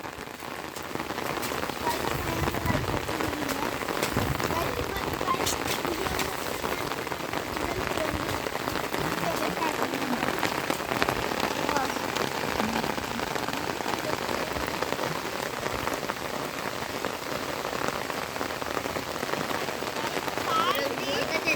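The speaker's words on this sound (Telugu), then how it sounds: "మంచి వర్షం పడుతుందిరా." Heavy rain pours down steadily, a dense, loud hiss of drops drumming on surfaces that continues without a break for over twenty seconds.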